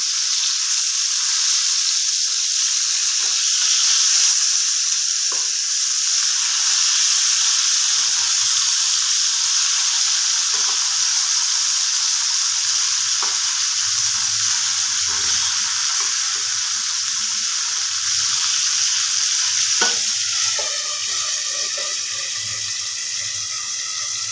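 Pieces of mrigal fish fry in hot oil, producing a loud, continuous sizzle with scattered pops and crackles that persists steadily throughout, with no one speaking.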